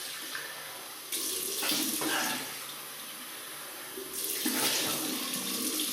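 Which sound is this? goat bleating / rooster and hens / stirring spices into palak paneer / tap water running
tap water running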